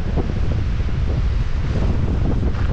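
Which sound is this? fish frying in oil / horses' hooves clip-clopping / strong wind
strong wind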